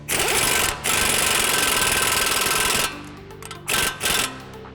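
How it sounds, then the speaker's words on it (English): Power tool retightening the axle nut on a Ford Bronco's front knuckle during a coilover install: loud, close, continuous mechanical whirring bursts with short pauses, alone without talk. "we're gonna go ahead and retighten the axle nut."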